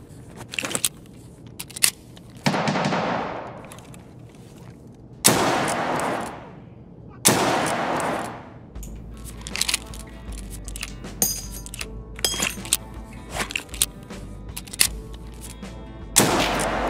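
RSh-12 revolver shots fired in a video game, several heavy, booming blasts spaced a second or more apart, each with a long decaying tail, followed by quicker metallic clicks and a few more shots.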